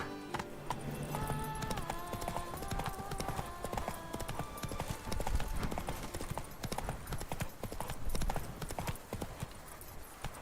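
Roach, a horse in The Witcher 3, gallops with a rapid, steady clip-clop of hooves, mixed with game music, rustling ambience and a brief voice.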